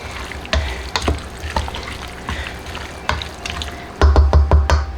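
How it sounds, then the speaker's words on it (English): A spoon stirs marinated tomatoes in oil, making repeated close wet scraping and sloshing strokes in an uneven rhythm that grow louder and quicker toward the end. "Take our spoon, and we're gonna stir it up."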